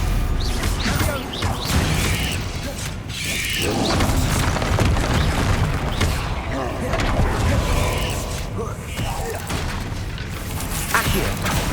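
Dense, continuous game-combat din from Hogwarts Legacy, with repeated booming blasts and crashes of spell explosions layered over mechanical clatter, loud and sustained throughout, with a voice calling out spells.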